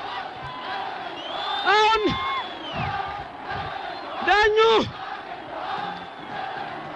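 A packed football stadium crowd cheering, a broad steady roar that swells twice into loud collective shouts and whoops, with a commentator talking over it.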